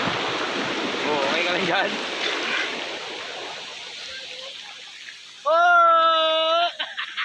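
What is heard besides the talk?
ocean waves at the beach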